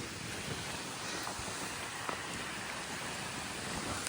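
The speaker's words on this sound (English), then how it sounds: "Kind of windy." Steady wind rushes and buffets across the microphone outdoors among limestone rock in winter in Vermont, a continuous low roar with faint surf-like wash and no voices.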